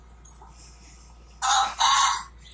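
Roosters crow in two loud, back-to-back bursts from a crowd of birds, with a brief faint chirp before them against a quiet background.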